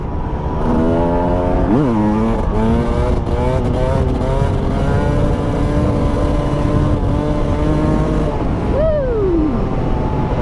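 Husqvarna TE300 two-stroke dirt bike accelerating hard through several gears, its ringing engine pitch climbing and dropping at each shift over a loud, close ride, then winding down at the end.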